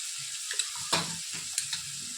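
Spiced ivy gourd stirred in a pan, a steady faint sizzle broken by several spoon scrapes and knocks against the pan, close by, with no talk.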